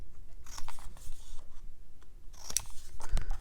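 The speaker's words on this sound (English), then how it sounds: "Cut the corners of them with the scissors." Sharp scissors snipping the corners off paper watercolor gift tags, a few quick crisp cuts in irregular bursts, close and fairly quiet with no talking.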